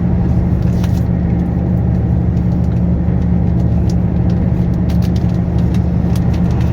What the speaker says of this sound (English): Poor old lorry, I don't know what's wrong with her. She's not pulling very well